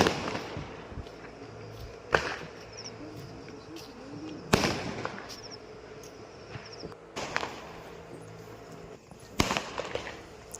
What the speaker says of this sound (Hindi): पड़ोसियों के स्काई शॉट तो ख़त्म नहीं हो रहे भाई, एक के बाद एक लगे पड़ेंगे अभी